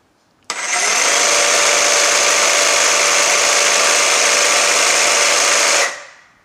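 A Milwaukee M18 Fuel Super Sawzall reciprocating saw running at its lowest speed setting: a steady, loud motor whine that starts abruptly, holds constant for about five seconds, then winds down, with no talking.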